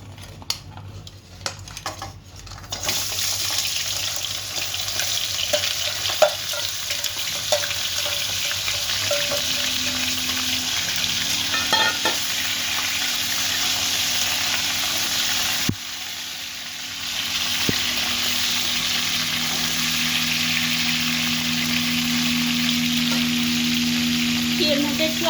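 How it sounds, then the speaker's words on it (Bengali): Cleaned sea crabs rubbed with salt and turmeric drop into hot oil, and a loud, steady frying sizzle follows for a long stretch, with occasional clinks of utensils and a brief break partway through. "তেলটা গরম হয়ে গেছে, আমি এবার কাঁকড়া মাছগুলো ছেড়ে দেবো"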